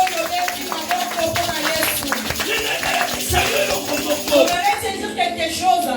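A church congregation applauding, dense overlapping clapping with cheering and voices mixed in, sustained and fairly loud throughout.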